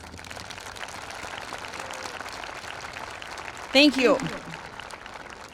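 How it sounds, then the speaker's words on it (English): Applause from a graduation ceremony crowd for district staff, a brief burst of clapping near the end, following a speaker's amplified voice. "Let's give them a round of applause."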